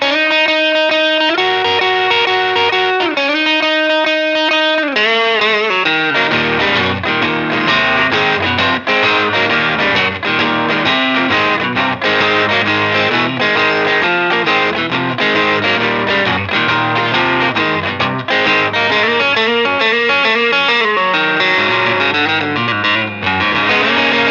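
Electric Stratocaster-style guitar through a Tube Screamer overdrive with a warm, gritty distortion, playing sustained notes and then busy bluesy lead lines, loud and upfront without any talking.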